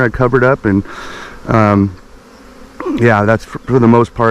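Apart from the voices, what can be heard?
honeybee swarm buzzing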